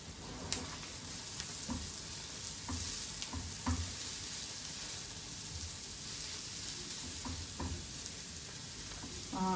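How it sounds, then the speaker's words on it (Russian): Carrots sizzle steadily in a pan of melted clarified butter while cooking for a gravy, with an even frying hiss and a few soft stirring knocks, and no voices. "Теперь закидываем нашу морковочку на зажарку"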